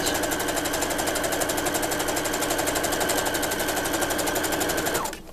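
A sewing machine runs steadily while stitching a ruffle onto a doll's pants or skirt, a fast, even mechanical chatter held for about five seconds before it slows and stops, close and alone.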